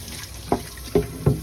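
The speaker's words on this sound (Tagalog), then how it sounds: "Hugasan natin ang kawali." A frying pan is rinsed under a running kitchen tap, with soft continuous water and three sharp knocks or splashes of the pan.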